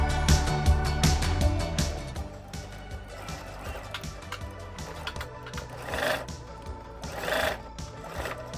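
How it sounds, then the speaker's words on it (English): A home sewing machine stitching a pocket onto the front of small children's pants, a loud rapid mechanical rattle in bursts with short pauses, close by. "Now I'm going to sew the pocket on the front"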